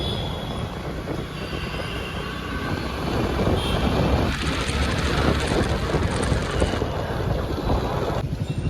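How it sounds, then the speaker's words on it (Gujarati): Cold wind blowing hard in Ahmedabad, a steady, loud, broadband rush that builds partway through and stays strong, with gusty swells and no voices. "ભાઈ ઠંડો પવન ઘણા ટાઈમ પછી"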